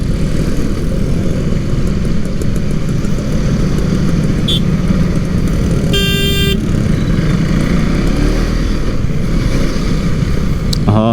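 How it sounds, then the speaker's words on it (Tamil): Loud, constant Sunday road traffic with cars and motorcycles rumbling close by, engine noise filling the scene and a couple of short horn toots cutting through. "இது பாருங்க, சண்டேவே டிராஃபிக்கு."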